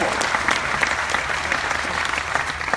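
A packed event audience applauding, continuous, energetic clapping from many hands, loud and even throughout with no speech over it.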